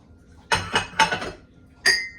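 Ceramic dinner and salad plates with swirl pattern clinking as they are handled, three sharp bright knocks in quick succession followed by a lone ringing clink after a pause, close and distinct against a quiet room.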